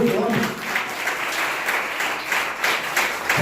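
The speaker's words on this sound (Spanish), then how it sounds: "Haga un aplauso al Eterno," A church congregation applauding during a service, a continuous full round of clapping with pulsing bursts, fairly loud, with voices mixed in.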